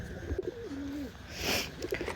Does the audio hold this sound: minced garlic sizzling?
no